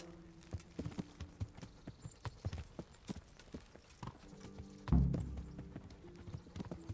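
Horse hooves clip-clop at an even walking rhythm in the medieval game Kingdom Come: Deliverance, with sharp, fairly close hoofbeats, one heavier thud partway through and a quiet ambient bed beneath.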